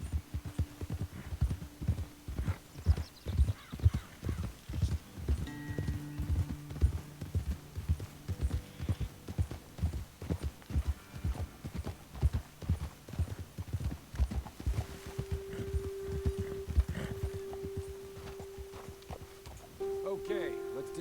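Horses walking in a video game, hooves clip-clopping in a steady close rhythm throughout, with voices talking over them and a low hum entering late.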